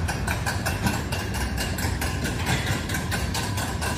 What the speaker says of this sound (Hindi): और ये ट्रेन स्टार्ट हो गई